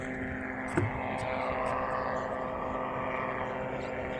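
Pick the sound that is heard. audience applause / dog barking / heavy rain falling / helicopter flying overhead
helicopter flying overhead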